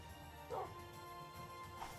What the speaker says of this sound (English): I keep hearing Nina barking